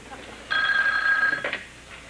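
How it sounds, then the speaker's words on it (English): A telephone rings once in a 1985 TV series scene, a short electronic trill lasting about a second over quiet room tone. "Mary, answer the phone."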